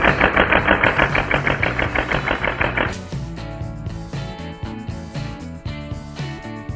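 An Ingram M11 gas blowback airsoft gun fires on full auto, a rapid even burst of loud close shots for about three seconds, followed by quieter clicking and mechanical handling noises.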